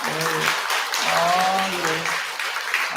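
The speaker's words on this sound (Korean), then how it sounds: "큰 박수 한번 부탁드릴게요" An audience at a Sunday family dharma service in a Buddhist temple claps in a steady wash of applause, with a voice talking over it throughout.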